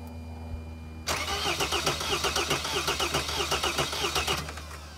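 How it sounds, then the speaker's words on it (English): A 2002 Sprinter van engine cranks over with its injectors unplugged, the starter kicking in abruptly after a quiet moment and churning in a steady rhythmic chug without catching, loud and close. "let's try turning the engine over a little bit. It won't start with injectors unplugged."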